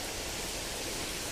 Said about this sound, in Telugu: వర్షం ఎలా వస్తుందో ఆగకుండా ఒక రోజంతా పడిందండి వర్షము